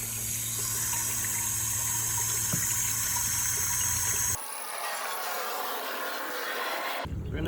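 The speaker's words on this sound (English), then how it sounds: "We're going to go ahead and fill this with water" Water pours steadily and hisses into a garden pump sprayer being filled for deck wood brightener, a continuous rushing fill that shifts in tone partway through and ends with a brief clunk.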